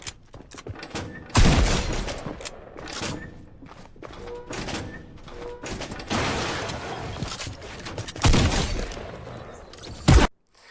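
Shotgun blasts in a Fortnite match, a handful of sharp, loud booms spaced irregularly across ten seconds, with footsteps, reload clicks and game effects filling the gaps between shots.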